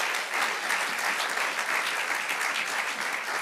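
Worshippers at a church service break into applause for the Lord, a steady, even roar of many hands clapping without pause, fairly close and sustained.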